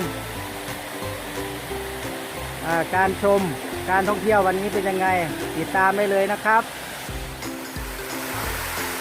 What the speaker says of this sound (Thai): อ่านี้เป็นน้ำตก ด่านแบนธรรมชาตินะครับ